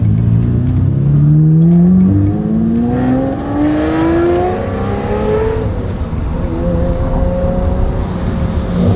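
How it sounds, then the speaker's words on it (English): A Lamborghini Murcielago climbing the Stelvio Pass mountain road, its exhaust loud and close, revving up and shifting through gears with rising whines, the sound echoing off surrounding mountain walls. "hearing the sound of this exhaust echoing off the walls of mountains and in these tunnels"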